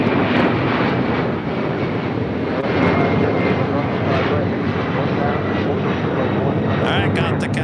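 An airliner takes off at LAX with a loud, sustained engine roar that fills the whole stretch, while voices talk faintly underneath.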